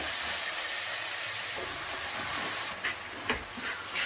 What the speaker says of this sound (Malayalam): നമ്മുടെ ഉള്ളി ഇപ്പോൾ നല്ല ഫ്രൈ ആയി വന്നിട്ടുണ്ട്.